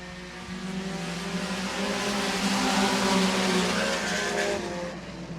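Sportmod race cars roar around the Hancock County Speedway oval as the pack gets underway, a loud, continuous wall of overlapping engine noise that swells and holds steady with no talking.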